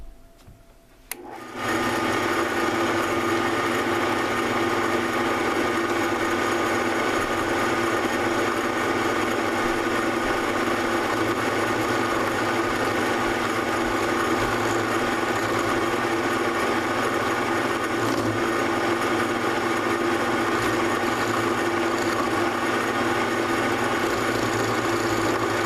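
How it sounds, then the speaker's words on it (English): A power tool mills a channel into the ribs of a Graflex camera, running as a steady, continuous whine and buzz for the whole stretch after a brief quiet start, close and unbroken. "I'm just going to mill a section out of these two ribs"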